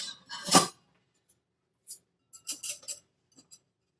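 Skeleton-shaped ice cubes dropped into a cocktail glass give a few sharp clinks and knocks, with a louder clatter at first and then scattered lighter taps in a quiet room.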